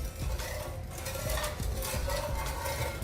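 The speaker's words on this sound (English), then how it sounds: "I'm just going to stir this till such time it just gets little warm." A spoon scrapes and swirls in a pot of milk warming on a medium gas flame, soft repeated stirring and faint metallic clinks at close range with no talk.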